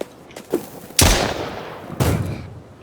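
Rifle gunfire in a video game, a few faint shots followed by two loud, sharp reports about a second apart, each with a ringing decaying tail.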